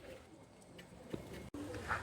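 Caged Kasuri pigeons coo softly in Kolkata, a few faint, low murmuring calls over a quiet background, with a sharp click partway through.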